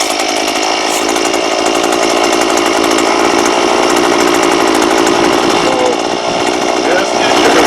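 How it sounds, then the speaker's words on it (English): An Earthquake 43cc auger powerhead two-stroke engine runs loud and steady after a pull start, a close, constant buzzing drone with a slight waver throughout. "So now I'm just going to pull the starter a few times."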